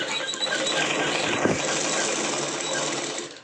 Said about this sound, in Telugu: ఇలా పెట్టుకొని మిషన్ అయితే కుట్టుకోవాలి ఫ్రెండ్స్.